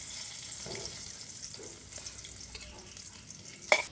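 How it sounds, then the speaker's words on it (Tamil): Dried red chillies sautéing in hot coconut oil, a faint, soft sizzle with occasional light stirring taps and a brief sharp clatter near the end, heard close with no voices. "நாங்கள் இப்போ இந்த செத்தல் மிளகாய் போட்டு வதக்கி எடுப்போம்."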